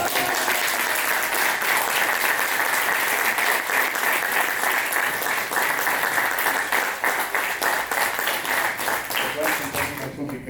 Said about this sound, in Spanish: Un aplauso de esto.